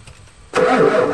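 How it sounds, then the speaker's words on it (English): A Ford F250 diesel truck's starter cranking the engine, quiet at first and then a sudden loud burst of churning engine noise close by for the last half second. "starter motor's not cranking her fast enough"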